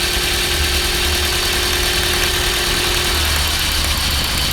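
A Toyota Altis engine idles with one ignition coil pulled, a loud, steady rumble with a slightly uneven, shaking low pulse and no voices over it.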